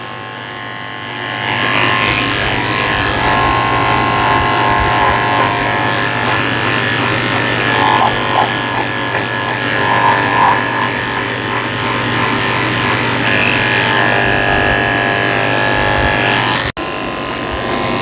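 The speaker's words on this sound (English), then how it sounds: "shave all that hair off." Electric clippers shave the hair of a Shih Tzu dog, a steady close buzzing hum that runs almost unbroken for most of the stretch before cutting off near the end.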